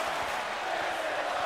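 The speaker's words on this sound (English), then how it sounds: "this capacity crowd in the AWL arena" A capacity crowd roars and cheers through a steady, dense wall of noise inside the AWL Hontai professional wrestling arena, sustained without a break.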